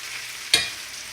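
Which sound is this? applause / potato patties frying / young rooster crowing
potato patties frying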